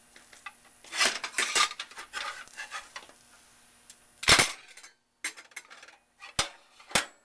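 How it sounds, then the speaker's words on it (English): Metal utensil scraping and clattering against a frying pan in short, irregular bursts with quiet gaps between, as corn pancakes are lifted off. "The last two corn pancakes are coming off the frying pan."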